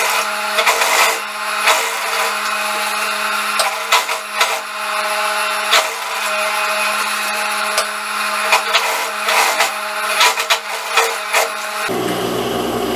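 A sewing machine stitches along the edge of a sports-collar jacket, a steady close-up mechanical whir running continuously with small rhythmic ticks, then cutting off sharply near the end.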